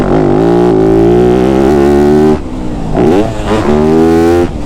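A Yamaha YZ250F dirt bike's engine is very loud and close while riding. It makes a buzzy, droning whine that climbs and drops in pitch through revs and gear changes, with a short dip midway.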